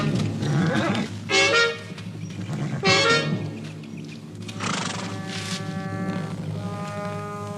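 A horse on a western ranch neighs in two loud whinnies close by, followed by a fainter whinny, with no speech.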